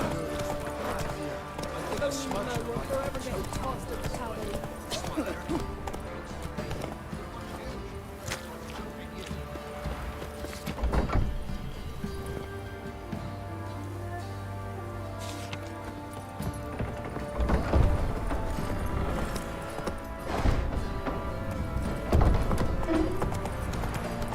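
Hooves of Roach, Geralt's horse in The Witcher 3, clip-clop at a gallop and then a walk throughout, mixed with music, game sounds and dialogue between characters, with a few louder hoof bursts later on.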